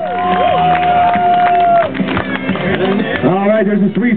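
A crowd cheers loudly and steadily at a Lumberjack Days competition, with whistles and shouts mixed in and a voice calling out over the top throughout.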